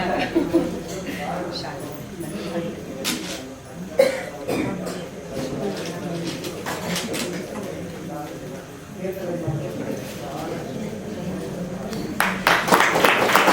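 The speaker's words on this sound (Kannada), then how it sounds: "ಜೋರಾದ ಚಪ್ಪಾಳೆ ಬರಲಿ." Applause from an audience at a temple anniversary felicitation ceremony, mixed with crowd murmur and talk, swelling into a louder burst of clapping near the end.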